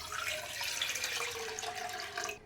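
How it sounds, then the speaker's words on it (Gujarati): Roughly two glasses of water pour into a cooking pan on a gas stove, a loud continuous splashing rush that cuts off near the end. "પેનમાં 2 ગ્લાસ જેટલું પાણી નાખીશું"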